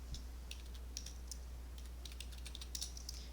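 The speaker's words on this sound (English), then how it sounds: "Bring back our calculator to type this in." Numbers tapped into a calculator during a math lesson: soft, quick key clicks in irregular bursts, faint and close, over a steady low hum with no talking.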